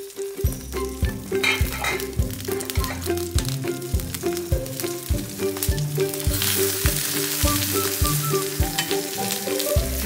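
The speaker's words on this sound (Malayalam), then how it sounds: "അതിന് മുകളിലേക്ക് നമ്മൾ പൊതിഞ്ഞ് വെച്ച ചിക്കൻ വെച്ച് കൊടുത്തിട്ട് ഒന്ന് മൂടി വെക്കാം" Chicken wrapped in banana leaf sizzles and fries in hot oil in a home kitchen, a steady loud crackle that runs the whole time with no talk over it.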